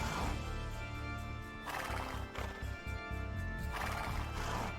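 Horse cavalry units in Age of Empires II Definitive Edition, with repeated whinnies and neighs over a constant backdrop of clip-clopping hooves and game ambience.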